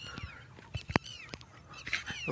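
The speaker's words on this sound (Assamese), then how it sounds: "চৰাইটো আহিছে, যোনটোৱে মাতিছে," Outdoor bird calls, a few rising and falling notes with a sharp clack in between, fairly close with soft background noise.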